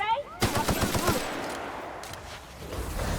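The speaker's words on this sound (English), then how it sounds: "Are you shooting from downstairs?" Rapid automatic gunfire in the sci-fi shooter The Outer Worlds, a close, loud burst of quick repeated shots followed by a rough, noisy tail of echoing fire and combat din, with a voice briefly heard at the start.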